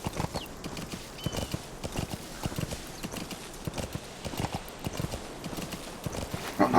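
A horse's hooves in Metal Gear Solid V, a steady rhythmic clip-clop of galloping at moderate volume, continuous with no talk over it.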